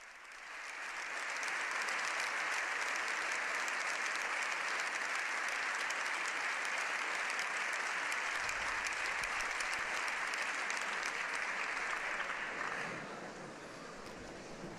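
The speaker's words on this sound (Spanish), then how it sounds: "aplauden largamente al Papa." Both chambers of the Spanish parliament, standing in the Congreso de los Diputados, give Pope Leo XIV a long, dense ovation: sustained loud applause from a large crowd that fades down near the end.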